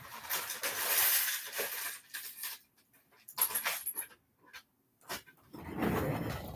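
A dog named as a recent howler makes brief vocal sounds in the background of a quiet indoor room, in short bursts separated by near silence, with clinking and panting noises.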